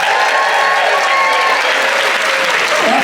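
A cruise ship audience at a game show bursts into dense, loud applause mixed with cheering and whoops, a continuous crowd roar held close throughout.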